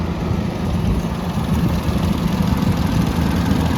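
An Oliver Super 77 tractor engine runs steadily at close range, a loud, continuous low rumble that holds even throughout.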